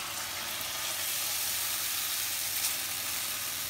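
Chicken sizzling steadily in oil in a pan, with onion, garlic and chile added, a close, even hiss of frying with no talk.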